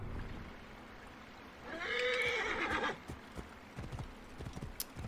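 A horse in Assassin's Creed Origins gives a clear, drawn-out whinny in the middle, with scattered hoof clops and faint ambient noise around it.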